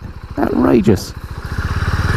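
A Husqvarna Vitpilen motorcycle rumbles on a city street in the UK, its engine pulsing in a steady throbbing rhythm, close and loud, after someone speaks briefly over it.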